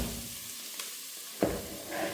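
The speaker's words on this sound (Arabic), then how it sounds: "عندي الشعيرية عم تتقلى كمان" Vermicelli and onions fry in oil in a pan, giving a soft steady sizzle with a couple of brief stirring scrapes, close and fairly quiet.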